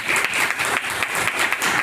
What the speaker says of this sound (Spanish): le damos un aplauso a Héctor por la presentación